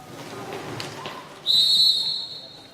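A referee's whistle at an Under-23 national finals roller hockey game blows one sharp, shrill, sustained blast for a team foul, rising over faint arena murmur and skate noise.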